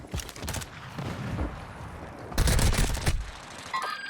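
Gunfire in the video game Warzone, bursts of rapid shots at moderate distance with a louder volley near the end, no talking.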